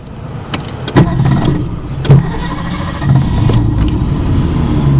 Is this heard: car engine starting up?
yes